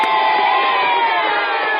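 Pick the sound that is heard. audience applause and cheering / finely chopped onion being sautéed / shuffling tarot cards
audience applause and cheering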